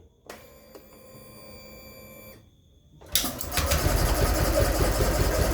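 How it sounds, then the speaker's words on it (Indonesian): A Honda Vario 125 scooter with a fault that keeps it from idling steadily: a quieter, tonal running note drops away, then a loud, rough, broadband engine roar follows up close and continues to the end. "Sepeda motor Vario keluhannya itu nggak bisa stasioner ya, jadi kondisinya itu seperti ini."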